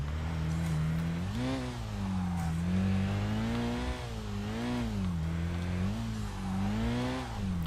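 A Nissan Primera engine in Tokyo Xtreme Racer Drift 2, revving steadily and loudly with a wavering pitch that rises and falls through the gears, heard alone without voices.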